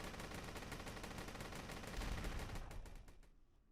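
A sustained, dense volley of gunfire in a RWBY visual novel, many shots overlapping into a continuous roar that swells, then thins into scattered cracks as it fades.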